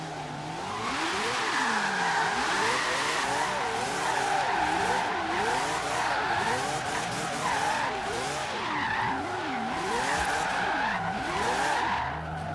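Tires squealing and skidding continuously as a Mazda MX-5 drifts in the racing game Forza Horizon 3, a loud sustained screech with wavering pitch over the droning engine, no talk.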